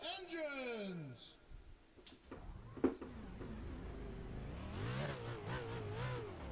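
Race car engines in NASCAR Racing 2003 start and rev at Watkins Glen, with a falling whine at first, then a steady rising roar of several engines building under a voice.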